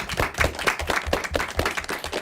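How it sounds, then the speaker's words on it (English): Steady applause from a crowd at an elementary school derby event, dense clapping at an even level throughout with no voices. "I'd like to have a big round of applause for the people who made it happen"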